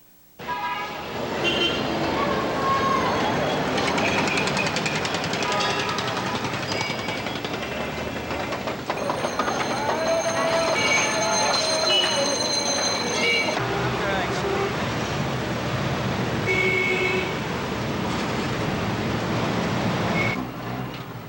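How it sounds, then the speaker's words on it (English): Train arriving at a station in Calcutta, a dense rumbling clatter of rail cars with horn toots and squeals of metal, loud throughout with a busy din around it. "As the train pulled into Calcutta"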